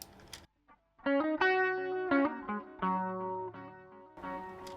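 A distorted, chorus-laden guitar plays a run of sustained notes through an effects pedal for a reggae beat, loud and close, with shimmering modulation and brief gaps between phrases.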